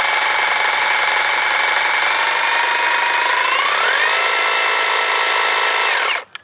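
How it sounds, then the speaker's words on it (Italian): Echo DHC-200 50V cordless battery hedge trimmer with brushless motor running its blades at top speed, a loud continuous high whine that climbs in pitch partway through, then cuts off abruptly near the end. "man mano che facciamo pressione la velocità delle lame del motore brushless aumenta"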